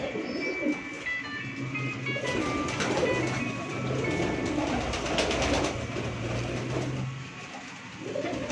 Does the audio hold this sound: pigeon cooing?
yes